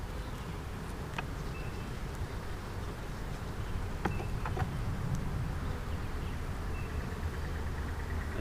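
Honey bees hum as a dense, steady drone during a hive inspection, close and continuous throughout, with a few faint clicks of handling the frames.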